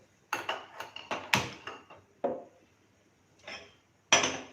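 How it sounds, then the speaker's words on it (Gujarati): A pan set down on a gas stove gives a handful of quiet metallic clunks and knocks, scattered and irregular, with short silent gaps between them. "અહીં આપણે ગેસ ઉપર એક પેન મૂકીશું."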